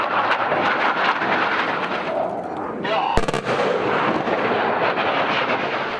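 Fighter jets such as MiG-29 and F-7BG fire on targets during an air force drill, a dense continuous roar of gunfire and jet noise with a sharp burst midway, loud throughout.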